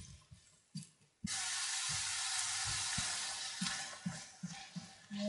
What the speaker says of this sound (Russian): Так, лук пожарили немножечко.